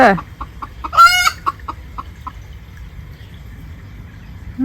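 A chicken clucks loudly in a quick run of short, rhythmic clucks, with one louder squawk partway through, then the calls trail off into quiet background noise.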